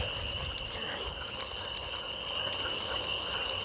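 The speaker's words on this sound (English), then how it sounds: "Lots of frogs out." Many frogs croak steadily in a swampy stretch beside the Delaware and Raritan Canal Trail, a dense continuous chorus with a constant high insect-like trill, moderately loud and with no one talking.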